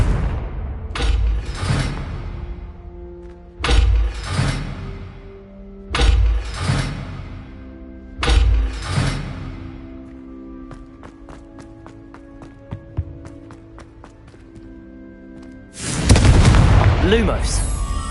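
Confringo fire-blast spells in Hogwarts Legacy, four loud booming explosions with crackling tails at a steady pace, then ringing tonal effects and a final big roaring burst, with game audio throughout.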